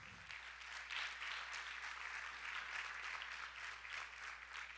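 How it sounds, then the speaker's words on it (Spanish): A church congregation applauds at a worship service, a broad, even roll of many hands clapping that holds steady throughout, moderately distant and fairly soft, with a low hum underneath. "Dele un aplauso al Señor,"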